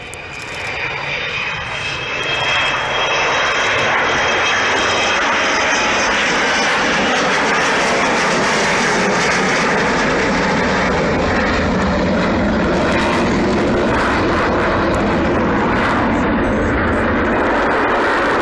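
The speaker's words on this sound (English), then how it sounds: "Flying at us on a final approach with her gear down." Avro Vulcan XH558 delta-wing bomber on final approach with gear down at an airshow, a loud, sustained roar of jet engines that swells and holds steady across the whole stretch, no voices over it.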